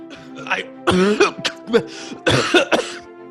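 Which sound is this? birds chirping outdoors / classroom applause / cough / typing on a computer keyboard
cough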